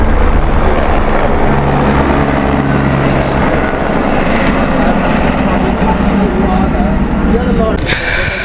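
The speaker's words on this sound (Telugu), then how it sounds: "ఇక్కడే హెలికాప్టర్ కూడా వస్తుంది చూడండి" A helicopter arriving at the Badrinath helipad in the mountains, its steady rotor drone loud and continuous throughout, with a brief higher-pitched burst near the end.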